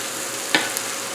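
Sliced garlic fries in a pan while making pasta primavera with chicken: a soft, even sizzle with one short scrape or clink midway and a faint tick after, heard alone and close.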